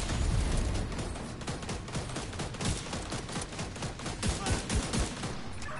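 Light machine gun fire in The Division 2, sustained rapid bursts rattling loudly and continuously with dense overlapping shots.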